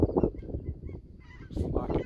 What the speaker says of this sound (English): Flock of geese flying overhead.